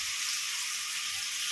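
Tomatoes sauté in a pan for a garlic curry, a steady, fairly quiet hiss of sizzling with no voices.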